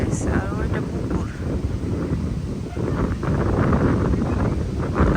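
Wind blowing outdoors beside flooded fields and a pond, a constant loud rumbling buffet across the microphone that swells slightly in the second half.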